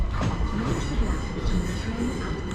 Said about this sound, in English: coming in now is a slightly delayed 1318 London Overground service to Clapham Junction